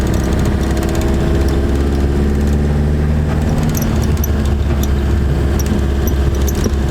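A 1973 Toyota Celica fitted with a new exhaust drives around the block, its engine giving a steady, close, loud drone throughout with no voices.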